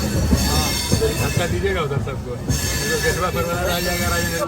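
Patna-Katihar Intercity Express train at Patna Sahib station, with high metallic wheel squeals and rolling rail clatter, loud and close amid a crowded carriage, while people talk over it.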